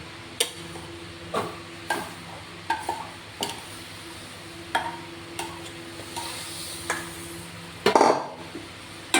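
A pot set on a gas stove with palm pulp stirred in, scattered clinks and scrapes of a utensil against the pot over a low steady hum, with one louder clatter near the end.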